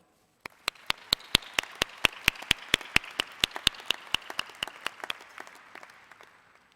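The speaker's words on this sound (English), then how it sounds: "I would like to ask that we recognize them with a round of applause as well" A commencement ceremony audience applauds university staff with a steady, dense patter of many hands, moderately distant, with sharp individual claps standing out and the applause tapering off toward the end.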